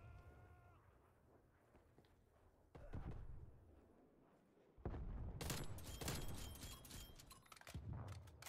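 Gunfire aimed at the player in Call of Duty: Cold War, faint at first, then sharp bursts of shots that grow loud and dense in the second half amid other game noise.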